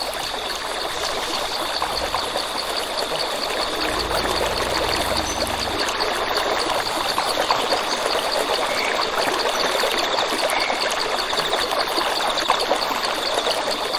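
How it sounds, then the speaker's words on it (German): A flowing stream rushes steadily in the survival video game Dinosis Survival, a loud constant watery wash that holds for the whole stretch with no talk. "Allerdings dieses Wassergeräusch."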